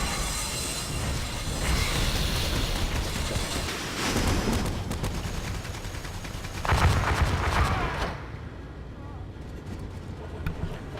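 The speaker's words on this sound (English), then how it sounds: "Orc artillery easily peppers the enemy Space Marines." Ork artillery in a Warhammer strategy game pounds Space Marines with a dense, rumbling barrage of booms and rattling impacts. A loud burst swells near the middle before the battle noise fades toward the end.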